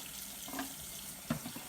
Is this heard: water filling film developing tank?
yes